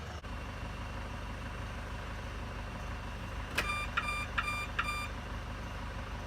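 A BMW E34 525i locks itself while idling, giving a run of four short, evenly spaced beeps over a low, steady engine hum.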